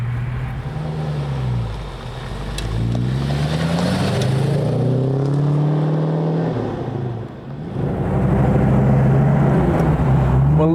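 A 1920s Blower Bentley engine starts and idles with a deep rumble, then revs up and down in repeated swells, loud and close with no talk over it.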